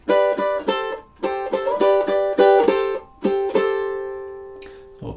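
Solo ukulele plays the opening measures of a song, bright plucked chords in a bouncy repeating rhythm that end on a long ringing chord, with no talking.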